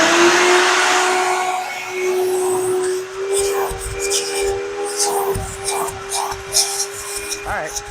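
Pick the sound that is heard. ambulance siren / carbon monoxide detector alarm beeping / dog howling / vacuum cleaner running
vacuum cleaner running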